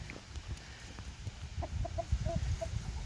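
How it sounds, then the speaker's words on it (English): Chickens cluck in short, scattered calls over a low, rumbling background, growing a bit busier toward the end. "Beautiful chickens."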